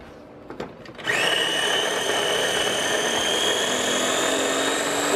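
An electric grinder whirs loud and steady as it grinds salt, pepper, garlic and cayenne seasoning, starting up after a couple of soft knocks and holding a constant high motor whine.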